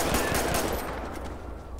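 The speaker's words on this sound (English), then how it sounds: "Shots fired, dispatch." Rapid automatic gunfire in GTA 5 with the LSPDFR police mod, a dense run of loud bursts filling the whole moment with no talk over it.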